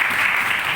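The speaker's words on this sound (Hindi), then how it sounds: "दोस्तों उनके लिए हम चाहते हैं कि उनके लिए जोरदार तालियां" Applause for a senior colleague at a retail staff training programme in Lucknow, a short steady wash of clapping from a group, close and continuous with no talk.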